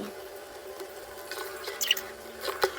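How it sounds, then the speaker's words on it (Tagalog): Squeezed banana blossom being rinsed in water for ginataang puso ng saging, with soft splashing and a few close drips and sloshes that grow a little busier toward the end. "At ngayon, pagkapiga po ay uugasan ko po siya sa tubig."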